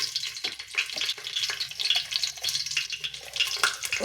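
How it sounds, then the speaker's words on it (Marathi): Bay leaf, green chillies and whole spices crackle and sizzle in hot oil for a pea and potato masala rice, with a steady frying hiss broken by quick, irregular pops close up. "ते खडे मसाले तोंडावर उडतात, पटकन फुटतात ते"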